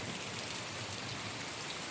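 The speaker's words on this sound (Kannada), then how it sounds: "ಎಲ್ಲನೂ ನೋಡಿ ಈ ಥರ ಫುಲ್ಲಾಗಿ ಮಳೆ ಬೀಳ್ತಿದೆ" Heavy monsoon rain pours down over a farm with chili plants, a constant, even hiss of countless drops striking leaves and ground, with no voices and no breaks.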